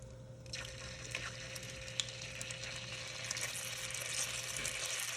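Veggie stock poured into a hot pan of cooking garlic for a lemon ricotta ravioli sauce, a steady close sizzle and bubbling liquid that holds the whole time without voices.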